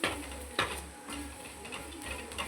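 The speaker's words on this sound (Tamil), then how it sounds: "கரம் மசாலா 1 ஸ்பூன், மஞ்சத்தூள் 1 ஸ்பூன் போட்டு நல்லா வதக்கி அதெல்லாம் போட்டு 3 நல்லா கலந்து வதக்கணும்" Garam masala and turmeric sautéing in a pan, a soft sizzle with a few sharp spoon strokes and a low steady hum underneath.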